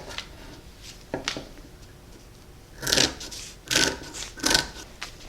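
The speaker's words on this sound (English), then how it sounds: "we'll go ahead and cut out the rectangle" Scissors snip through fleece fabric while cutting out a rectangle, with a few quiet early snips followed by three louder, longer crunching cuts spaced about a second apart.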